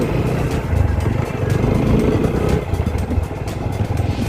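A motorcycle engine drones steadily and loudly while the bike struggles through deep desert sand near Pangong and Hanle in Ladakh, with a rough, continuous roar and no talk.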